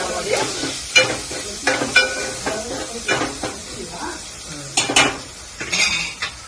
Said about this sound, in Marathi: परतून तेलामध्ये